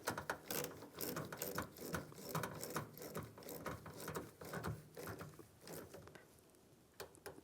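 A ratchet snugs down the negative battery terminal nut on a 2007-2013 Chevrolet Silverado 1500, giving quiet bursts of rapid, close metallic clicks with short pauses between strokes.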